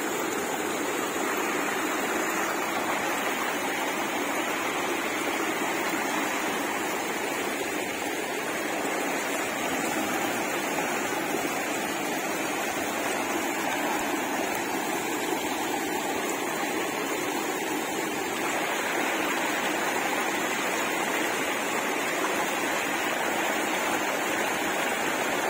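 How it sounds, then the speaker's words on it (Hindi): Steady rushing of water flowing through small stream channels, constant and fairly loud, filling the scene without pauses or speech. "पानी आ रहा है नालों में"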